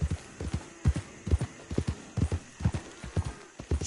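Horse hooves in the video game Red Dead Redemption 2, a brisk rhythmic clip-clop of galloping hoofbeats, close and clear, repeating steadily throughout.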